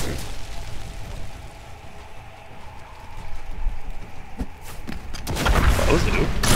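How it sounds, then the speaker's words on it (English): Explosions in Diablo 3 pile up into a loud, dense burst of booms and crackling debris near the end, following quieter thumps and game ambience, with someone talking over it. "Have some explosions."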